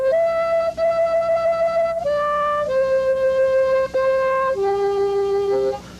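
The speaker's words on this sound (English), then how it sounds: "Straight harp accents the blow notes of your harmonica, and it's great for playing old melodies like Amazing Grace." Harmonica played straight harp style, accenting blow notes, carrying the slow melody of Amazing Grace as sustained reedy notes with clear separations between phrases, close and alone with no talking.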